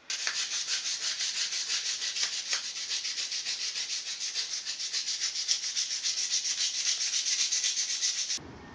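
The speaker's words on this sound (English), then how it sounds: "It's a really nice carving knife. You know, that thin blade just slices so well." Thin-bladed carving knife shaving birch wood for a Mora knife handle, a steady close scraping rasp with rapid repeated strokes running continuously, alone, stopping abruptly at the end.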